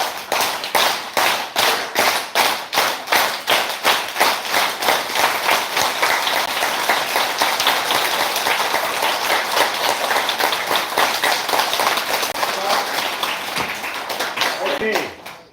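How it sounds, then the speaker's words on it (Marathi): A group in a live yoga session performs the Ayurvedic clap, starting in distinct rhythmic hand claps that quicken into dense, continuous clapping, close and loud, before stopping abruptly. "आयुर्वेदिक टाळी वाजवायची आता गणपती जवळ आलेले आहेत अशा पद्धतीने टाळी वाजवायची"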